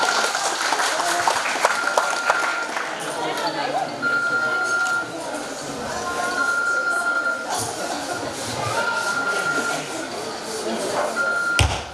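An audience at a fashion show claps for the members of a modelling agency called to the stage. The applause is a steady, continuous patter that carries on beneath a voice talking over a microphone.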